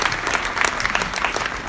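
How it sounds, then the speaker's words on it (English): A large audience at a conference keynote claps loudly and continuously, a dense patter of many hands with no pauses. "give them a big round of applause"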